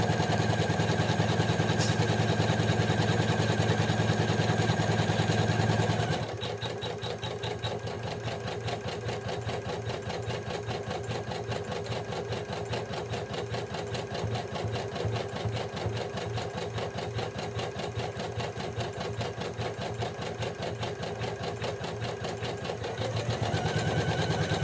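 Janome Memory Craft 500e embroidery sewing machine running a stitching test, a fast steady mechanical clatter that continues for most of the stretch after a brief louder motor start.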